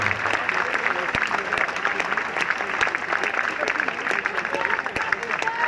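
Sustained crowd applause at an outdoor freedom protest in front of the Assemblée nationale in Paris, dense, loud and steady clapping with scattered sharp claps throughout, without pause.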